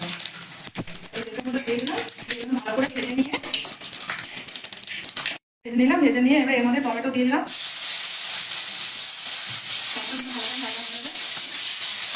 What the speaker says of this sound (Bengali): এখানে পাঁচ ফোড়ন দিলাম অল্প করে আর এগুলো শুকনো শুকনো লঙ্কা আর তেজপাতা দিয়ে দিলাম